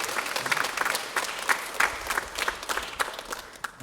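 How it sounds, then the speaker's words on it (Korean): Church congregation applauding during a Sunday service, a steady spread of many hands clapping at moderate distance, no speech over it. "우리 박수 한번 하게."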